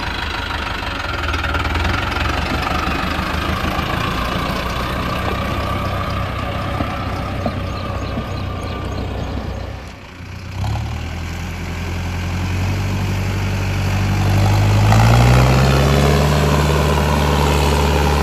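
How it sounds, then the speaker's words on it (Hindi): A heavy diesel engine of an old Swaraj 735 FE tractor stuck in deep mud idles loudly and steadily up close, its low rumble dipping briefly midway and then revving slightly higher toward the end. "ट्रैक्टर आ चुका है"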